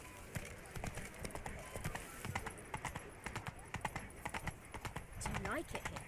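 Roach, a horse in The Witcher III, gallops with rapid, steady hoofbeats over several seconds, mixed with busy game sounds and a voice in the background.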